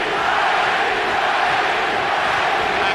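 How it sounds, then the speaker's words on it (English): A loud, dense boxing-arena crowd roars steadily through a Pacquiao versus Morales fight, its fans chanting together as one continuous wall of voices. "Pacquiao crowd chanting Manny, Manny, Manny."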